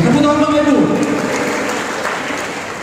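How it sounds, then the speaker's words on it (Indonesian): An audience at a campaign speech by a regional legislative candidate in Siak Regency bursts into applause right after a voice on a microphone, a dense clapping that gradually thins out. "Tepuk tangan Bapak Ibu."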